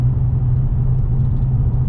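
Ford Focus RS Mk2 cruising in sixth gear, its engine and exhaust giving a steady, loud, low droning rumble heard from inside the car, with no voices.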